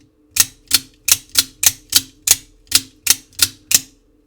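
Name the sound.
clicking switch of Axial Shift GEN3 flashlight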